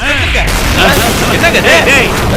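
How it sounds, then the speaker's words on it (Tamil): Firecracker blasts go off in a village celebration, a dense crackling run of loud pops and booms close by, filling the whole stretch. "அதுக்குள்ள வேட்டு சத்தம் கேக்குது"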